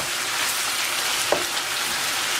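Food sautéing in a pan over a hot stove fire while making chicken fettuccine Alfredo Florentine, a constant dense sizzle with one brief clink partway through.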